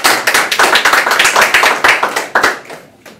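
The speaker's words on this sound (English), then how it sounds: "Give him a round of applause." Audience at an independent bookstore literacy town hall breaks into close, brisk applause, a dense patter of clapping hands that thins out and fades over a few seconds.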